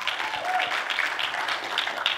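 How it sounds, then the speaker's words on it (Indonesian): A youth church service congregation applauds, a brief, steady wash of many hands clapping at moderate volume from across the room. "Tepuk tangan dulu ya."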